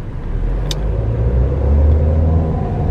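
A car drives through the city streets of Tangier, Morocco, its steady low engine rumble and road noise filling the clip from start to finish with no one talking and no pauses.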